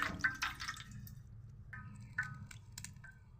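Crab being washed with small splashes of water during cleaning before cooking; intermittent close drips, squishy wet handling and light splashes in irregular bursts, fairly quiet with no talk.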